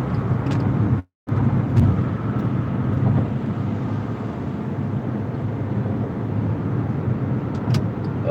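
A car drives through traffic, a steady low road rumble and engine drone that runs continuously and fairly loud, with a brief dropout near the start and faint passing-vehicle swells.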